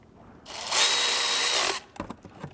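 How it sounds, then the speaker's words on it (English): Electric ratcheting wrench tightening alternator bolts on an Audi S3 (8V, 2015-2020), one loud continuous high-pitched motor whir of about a second close up, followed by a few light clicks and taps. "we're going to go ahead and tighten them up gently with the electric ratcheting wrench"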